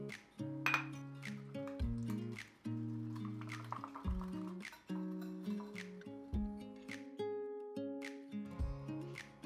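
Eggs, oil, baking soda and salt are mixed in a bowl for sourdough waffle batter, with a utensil clinking and tapping against the bowl in irregular bursts, quiet and close.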